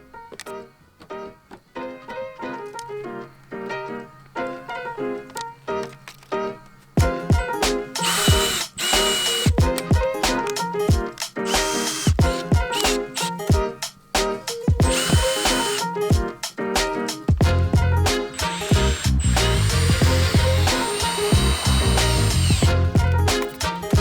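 A power drill drives screws into a Maxxair roof fan mounting flange on a Chevy Express van roof, with repeated short whirring bursts that grow louder and longer, each ending as a screw seats, with no speech.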